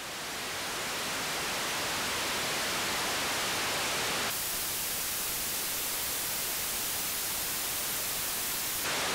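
Steady, even hiss of white noise from a synthesizer tone generator, loud and continuous with a slight step in level midway, alone with no voices.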